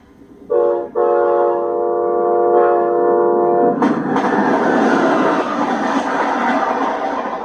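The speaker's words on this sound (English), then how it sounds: "That train is Amtrak's California Zephyr." An Amtrak California Zephyr passenger train's horn blares steadily before the rumble of passing rail cars takes over, loud and close, with clattering noise continuing to the end.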